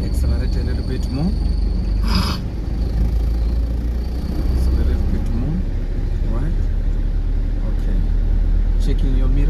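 A car's engine hums steadily through a driving lesson, picking up slightly as it accelerates after a turn, with an instructor talking over the continuous engine and road noise.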